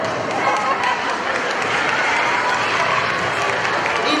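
An audience applauds at a kindergarten or school event, with steady, dense clapping from a crowd that holds through the whole stretch without pause.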